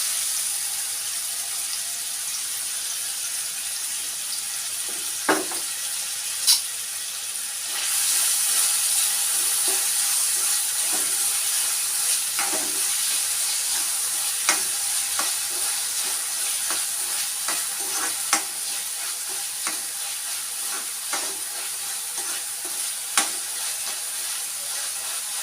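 Chopped ginger frying in a pan, a steady hissing sizzle that grows brighter partway through, punctuated by a series of distinct spatula scrapes and taps as it is stirred, close and without talk.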